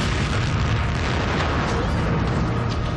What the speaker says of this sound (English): A first bomb is fired into the backyard garden behind the Prime Minister's residence.